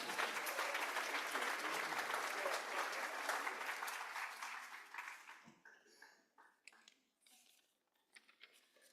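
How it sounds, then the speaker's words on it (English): An audience at an alumni and faculty celebration dinner applauds in a dense, sustained burst that thins out and fades over several seconds, leaving a few scattered claps and clinks of tableware. "Let's give Mark Bowling a round of applause."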